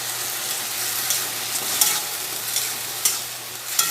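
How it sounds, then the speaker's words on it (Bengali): Pointed gourd paste with garlic fries in oil, a close, continuous sizzle broken by several scraping stirs of the spoon against the pan, with no speech. "একসঙ্গে রসুন দিয়ে পটল দিয়ে বেটে ভেজে নিচ্ছি"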